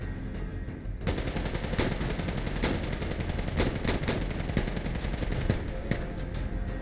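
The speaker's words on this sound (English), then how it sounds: "What the fuck are you shooting at?" Sustained rapid gunfire in Insurgency: Sandstorm, dense bursts of automatic weapon fire with sharp individual shots cracking through, loud and continuous after a brief quieter opening.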